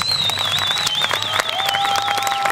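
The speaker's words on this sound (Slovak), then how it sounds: "Aplauz, aplauz, aplauz!" Dense applause from an audience, a steady wash of clapping with two sustained whistle-like tones running over it.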